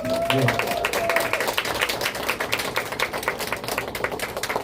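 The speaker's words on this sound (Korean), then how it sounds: "목사님 나오시면 박수로 환영하도록 하겠습니다" A church retreat audience claps to welcome a pastor, a moderate patter of many hands that is fairly close and steady, with a voice speaking briefly at the start.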